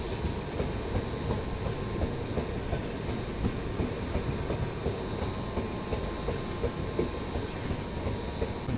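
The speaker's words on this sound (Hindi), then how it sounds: "कटनी साउथ से ट्रेन निकलते हुए।" Steady rumble and rhythmic clatter of a train's wheels, heard from inside the Banaras superfast express in a 3rd AC coach as it pulls out of Katni South station; the noise is continuous and moderately loud, with no talking.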